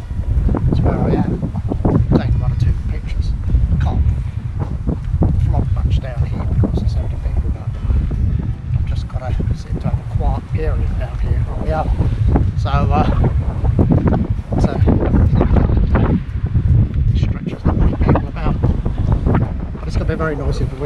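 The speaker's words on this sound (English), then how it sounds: "Very noisy for wind now, because that picked up again." Strong gusting wind at Folkestone harbour on the coast buffets the microphone in loud, uneven rumbling bursts for the whole stretch, with a voice occasionally audible beneath the roar.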